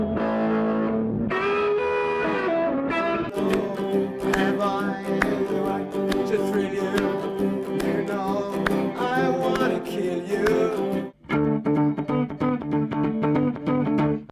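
An electric guitar through a Vox AC30 valve amplifier with crunchy, overdriven distortion plays a riff of chords and notes, loud and continuous, with a brief pause near the end.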